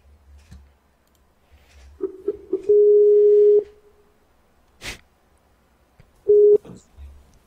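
Steady electronic Skype call tone sounding in bursts, one long tone and a shorter repeat, with clicks between them and no talk over it.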